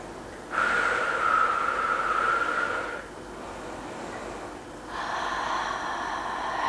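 Slow, steady deep breathing held in the yoga Warrior 2 pose: one long, even breath, a quieter pause, then another breath starting. Close and moderately loud, with no talk.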